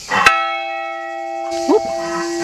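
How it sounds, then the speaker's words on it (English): A monastery bell in Greece is struck once, loud and close, and its tone hangs on and fades slowly. A second strike comes near the end, with soft sounds of people moving underneath. "I'm gonna ring the bell."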